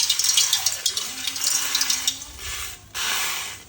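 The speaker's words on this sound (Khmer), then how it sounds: "យើងចាក់ទឹកខ្មេះចូលចាដាក់ខ្ទះក្តៅហើយយើងចាក់ទឹកខ្មេះចូល" Palm vinegar is poured into a hot pan, giving a short close gush and rattle of liquid hitting metal, then a brief burst of sizzling.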